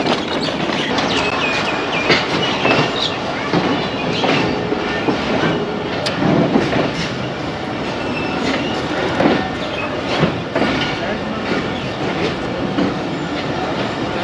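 The 39UP Jaffar Express rolls along a single-line track between Lahore and Rawalpindi, a loud, continuous rumble of wheels on rails with rhythmic clacks and occasional squeals, heard from inside the carriage with no talking.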